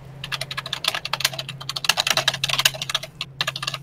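A very loud computer keyboard clatters with fast, dense keystrokes close to the microphone, over a steady low hum.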